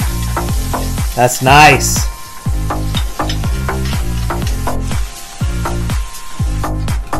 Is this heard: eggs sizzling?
yes